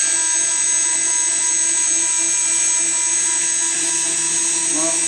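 A Wolfgang Engineering spindle cutting a PCB gives a loud, constant high-pitched whine with steady tonal hum throughout, close and uninterrupted.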